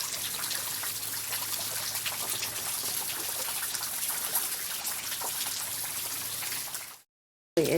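Rain patters and drips steadily outdoors around a pet capuchin monkey, an even wash of close drops that cuts off abruptly near the end, with no voices.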